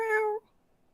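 A human voice imitates a cat with a single short, clear meow, held briefly and then cut off into near silence.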